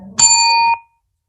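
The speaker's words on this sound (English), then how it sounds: "During the reply speech, the timekeeper will ring the bell once." A debate timekeeper strikes a bell once, a single bright metallic ding that rings clearly for about half a second before cutting off, loud and close, preceded by a brief low murmur.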